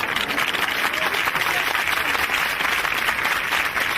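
A comedy show audience applauding, dense, even clapping from many hands that holds steady throughout without a break.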